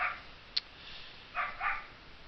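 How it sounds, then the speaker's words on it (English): A puppy barks a few times in the distance, short faint yelps, with a brief sharp bark early and two softer barks near the end over a quiet room. "my puppy's barking"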